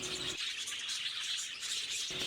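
Budgerigar chirping steadily in a high, bright register, close by and continuous through the whole stretch, with no talking.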